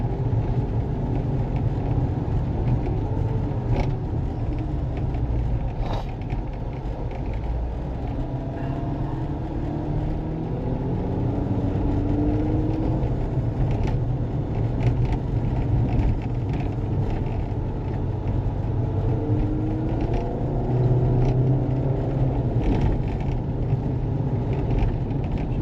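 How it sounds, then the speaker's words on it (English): A car in sport mode spins its front tires, giving a steady, loud engine roar and low rumble throughout, with rising and falling revs and no voices. "spinning them front tires"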